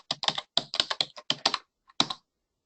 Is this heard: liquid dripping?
no